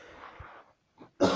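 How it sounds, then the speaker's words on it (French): A man gives a short, muffled cough amid quiet, followed by a brief louder burst of sound. "Et maintenant, il a toussé."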